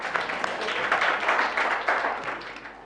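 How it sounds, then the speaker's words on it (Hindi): Classroom audience of students clapping for a child who answered correctly, a dense, steady patter of hand claps lasting about three seconds at moderate loudness. "एक बार और ताली बजाओ इसके लिए"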